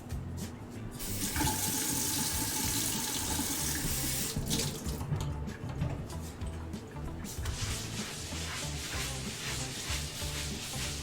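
Tap water runs steadily into a sink while a cutting board is rinsed and wiped, a continuous close splashing with small shifts in flow and no talk.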